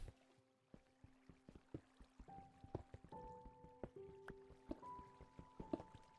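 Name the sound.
water sloshing in the video game Minecraft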